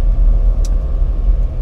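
A Lamborghini LM002 engine pulling hard while driving, a loud steady low rumble from inside the vehicle with a brief light click partway through.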